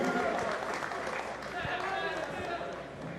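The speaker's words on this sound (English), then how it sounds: "Round of applause for both." Applause at a London boxing press conference, a dense wash of clapping from a large crowd that holds steady throughout, with an announcer's voice and crowd noise mixed in.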